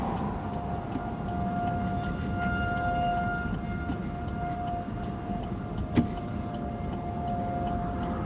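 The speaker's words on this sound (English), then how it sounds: "their tornado sirens aren't that loud, in my opinion, over here" Tornado sirens sounding across Topeka during a storm chase, a steady sustained wail heard from a distance at moderate level, with a brief sharp knock partway through.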